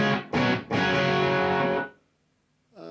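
Marshall 2525H Jubilee amplifier on its clean channel, gain shared with the drive channel, rings out a few loud, slightly gritty guitar strums, the last chord sustaining before cutting to silence, with a brief new strum at the end.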